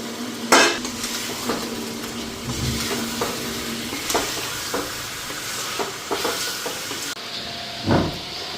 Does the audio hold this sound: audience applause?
no